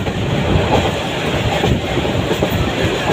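A train in Bangladesh rolls steadily along the rails, its loud, continuous rumble layered with a rhythmic clickety-clack of wheels over the track joints, heard up close from an open carriage doorway.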